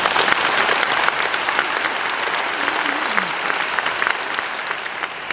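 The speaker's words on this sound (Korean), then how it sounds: "큰 박수 부탁드리겠습니다" An audience at a classical opera concert bursts into loud, dense applause that holds steady throughout, with a few faint cheers or voices mixed into the clapping.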